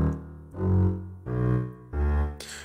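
Contrabass in a slow section of a composition, playing three long, deep bowed notes with swelling attacks and brief gaps between them, loud and resonant with no voices.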